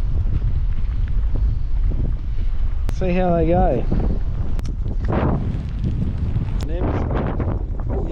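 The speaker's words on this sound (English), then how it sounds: "so do excuse the wind" Strong stormy wind buffets the microphone throughout, a loud constant roar, while a person speaks briefly over it while fishing.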